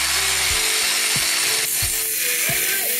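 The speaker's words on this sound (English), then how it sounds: "He's got a power tool out again. Mini angle grinder thing." A mini angle grinder with a small blade cuts the tops off bolts on a van, a loud, harsh continuous grinding roar with a few low bumps as the cut proceeds.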